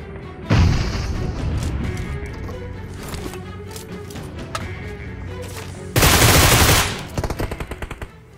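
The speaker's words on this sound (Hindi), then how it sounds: "देखो ये सारे बंदे फुल शॉट गन चला रहे थे।" Shotgun fire from a squad of enemies in the battle royale game BGMI, loud blasts and rapid bursts of gunfire with a heavy volley near the end trailing off into single shots.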